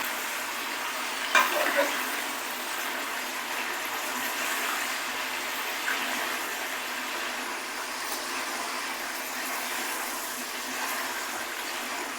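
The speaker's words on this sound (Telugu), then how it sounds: "ఇలా కలుపుకోవడం వల్ల ఏంటంటే చికెన్ అన్ని వైపులా ఫ్రై అవుతుంది" Chicken pieces fry for a Telugu chicken pickle, giving a continuous soft sizzle with a few faint spatula scrapes as they are stirred, steady and fairly quiet throughout.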